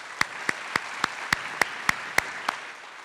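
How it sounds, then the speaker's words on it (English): Sparse, evenly spaced claps, about ten distinct hits in a steady rhythm, greeting a county board of education at a new educator orientation, moderately near with a quiet room behind. "If we can give them a round of applause."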